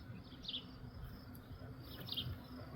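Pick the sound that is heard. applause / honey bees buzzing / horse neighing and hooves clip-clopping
honey bees buzzing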